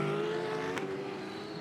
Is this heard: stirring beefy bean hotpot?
no